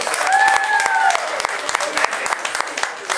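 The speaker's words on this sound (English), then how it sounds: "Give her a round of applause." Audience applause at a county Republican primary celebration, with sharp individual claps over a crowd, and a voice speaking briefly at the start.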